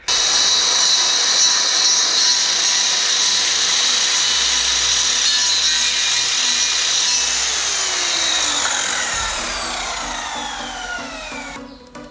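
A power sander works across wood for a garden gazebo, producing a steady, loud whirring grind with a high hum that runs continuously before the motor winds down and pitches lower near the end.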